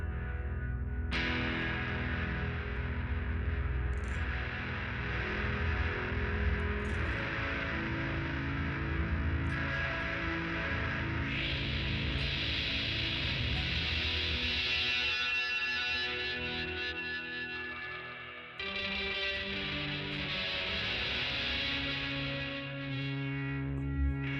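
Dark Star Stereo reverb pedal on its saturated setting, producing a dense, distorted ambient wash of sustained tones with swelling layers and a brief dip near the end, loud and continuous with no voices.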